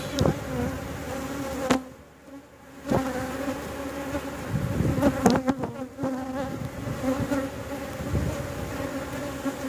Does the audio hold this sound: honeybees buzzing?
yes